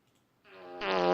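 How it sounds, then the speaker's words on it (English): A single fart starts low and swells in loudness, becoming a buzzy, sustained rasp that grows louder toward its end. "We'll piss one off by farting on him."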